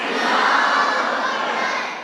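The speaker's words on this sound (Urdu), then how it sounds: "شکر ہے جو نعرے ختم ہو گئے آپ کے" A large crowd at a women's gathering of the Jalsa Salana convention in Germany chants Takbir slogans in unison, a loud, broad roar of many voices sustained for about two seconds before fading slightly.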